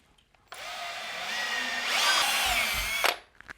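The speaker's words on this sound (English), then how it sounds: "Now we're gonna go ahead and use the tool to go ahead and clean the pipe" A spinning pipe-cleaning tool deburrs a pipe end for a SharkBite fitting during an outdoor faucet installation, giving a close, steady whir of about two and a half seconds that starts and stops abruptly.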